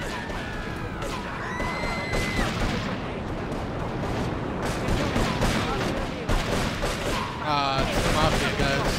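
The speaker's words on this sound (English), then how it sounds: "Somebody's shooting." Gunshots crackle through a dense, noisy street scene in GTA 3, scattered and overlapping with crashes and other game sounds that continue without a break.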